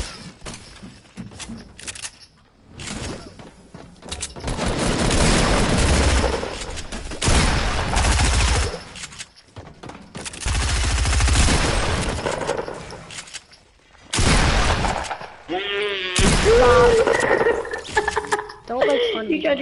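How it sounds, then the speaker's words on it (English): Bursts of rapid automatic gunfire from a first-person shooter video game, fired through a wall, coming in loud volleys separated by short pauses, with players talking and laughing over the shots. "You tried to shoot him through the wall."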